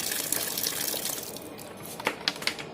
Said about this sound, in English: she's pumping out some water